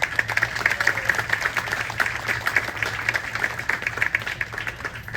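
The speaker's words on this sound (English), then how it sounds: "we just want to give them another quick round of applause" An outdoor crowd at a city history event by the Inver Grove Heights swing bridge claps steadily, a dense patter of many hands at moderate volume, continuing without pause throughout.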